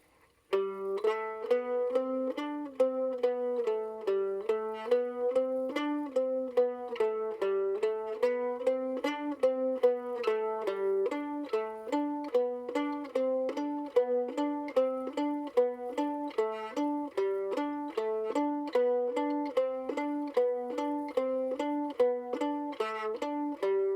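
A mandolin plays a finger exercise piece, a steady run of quick, evenly picked notes, a bright tremolo-like melody moving up and down, close and alone for the whole stretch.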